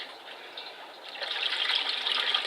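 Pond water running back through a pump and filter into an AEM Easy Drum 22 Uniseal drum filter, a steady close hiss of flowing water that grows louder partway through, with no talking.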